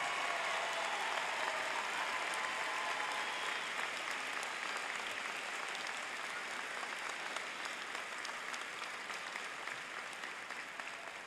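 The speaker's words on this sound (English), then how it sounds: "can I ask you to applaud the faculty and staff who will stand now" Sustained applause from a college commencement audience honoring faculty and staff, a dense steady wash of many hands clapping that holds at an even level and eases off slightly toward the end, with no talk over it.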